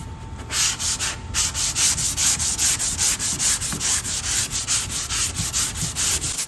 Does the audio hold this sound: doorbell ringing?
no